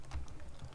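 A few quick computer keyboard keystrokes typing a short file name, soft and close, with no speech.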